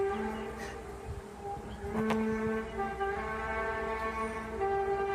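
A long, eerie brass-like drone hangs in the air, distant and wavering, with layered tones swelling and fading over steady outdoor hiss.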